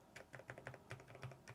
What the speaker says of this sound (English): the sounds of the keyboard